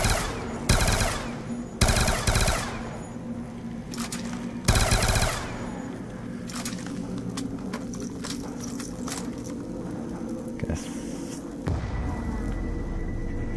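Automatic weapon fire in Black Ops 2 Zombies: several loud rapid bursts in the first five seconds, then a steadier bed of lighter shots and game noise, with one more burst near the end.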